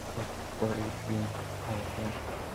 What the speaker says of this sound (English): This rain is definitely something.